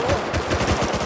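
A short burst of automatic gunfire in the survival game Rust, a loud rapid stutter of shots packed into about one second, with no talk over it.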